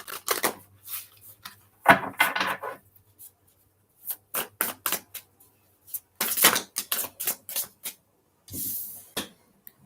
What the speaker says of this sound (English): but I'm going to shuffle.